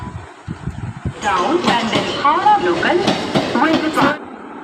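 A suburban train bound for Naihati running with steady rumbling and rattling of the wheels, clicks in the first second, then loud continuous rolling noise while people talk over it.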